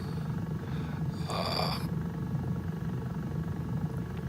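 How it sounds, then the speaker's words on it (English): A jet gyroplane drones steadily in flight, its engines and rotor making a low, continuous hum. A brief higher whine rises for a moment, and a man makes a faint vocal sound over it. "the sound of the plane and the engines and the rotor are the music that I like"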